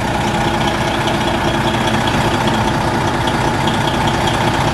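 A fire engine idles nearby, producing a loud, constant diesel rumble with a steady, unbroken drone throughout and no voices.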